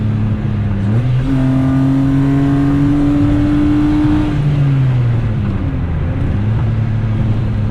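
A BMW E30 with an S52 engine and 4.10 gearing accelerates in a loud, close in-cabin drone, its engine tone climbing steadily, dipping at a gear change and rising again, with no talk.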